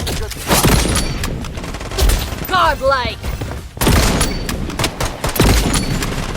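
Shots from an M700 sniper rifle with the Seraph skin in a shooting video game come as sharp, repeated bursts among other game effects, with someone talking over them.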